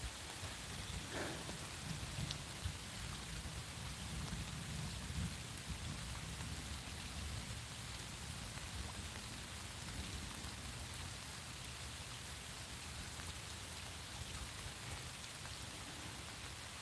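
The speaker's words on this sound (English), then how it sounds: "rainy conditions like that" Rain falls steadily during a fishing outing, a dense, even hiss that continues without a break, with a faint low rumble underneath and no voices.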